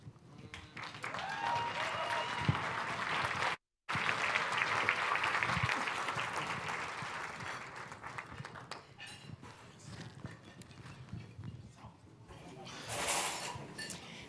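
Audience applause at a civil rights plenary session, a steady dense patter of clapping filling the room, briefly cut off partway and then tapering and swelling again, with some voices mixed in.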